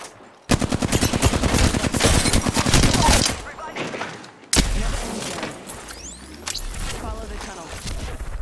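Rapid automatic gunfire in a video game shooter, loud and continuous bursts with a short pause, then more shots and clattering effects, with a voice faintly underneath.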